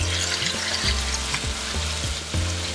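Tomatoes with salt sizzle and fry in a hot pan for a mixed vegetable sabzi, a steady loud crackle broken by a few scraping stirs, with no voices.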